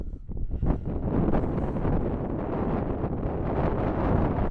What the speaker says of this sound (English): It's pretty windy too, so it's blowing everywhere.